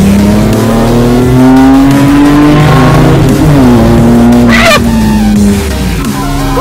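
A car races on a circuit and tries to overtake on the straight, its engine loud and close, revving up through gears with rising pitch, while a short squeal-like burst cuts through midway.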